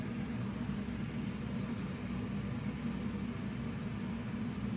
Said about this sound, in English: Sorry about the fan noise again.